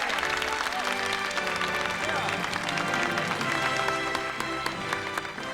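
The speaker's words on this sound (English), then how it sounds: "Give yourself a nice round of applause." An audience applauds throughout, crisp clapping mixed with music playing underneath, holding a steady level for the whole stretch.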